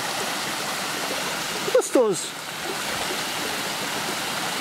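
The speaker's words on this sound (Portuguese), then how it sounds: "chegamos aqui na cachoeirinha, uma cachoeirinha bem pequena, pensei que era maior" A small waterfall at Jacutinga gives a steady, full rushing of water from start to end, with a brief spoken word near the middle.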